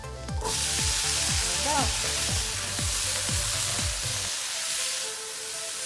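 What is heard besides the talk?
sautéing vegetables in a pan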